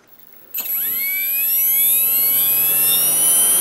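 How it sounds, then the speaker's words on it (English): An OMPHobby M2 RC helicopter's electric motor whirs up from silence at once, its high whine rising steadily in pitch and then holding a smooth, loud, continuous spin. "you got to listen to this motor"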